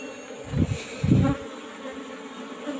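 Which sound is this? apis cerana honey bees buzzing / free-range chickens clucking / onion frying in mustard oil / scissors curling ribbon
apis cerana honey bees buzzing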